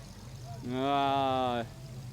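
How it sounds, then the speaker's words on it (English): A truck in a 2015 Maple Grove parade gives one brief rev of about a second, a tonal engine rise standing out above the faint background crowd noise. "Let's see if we can hear a little bit of a rev there"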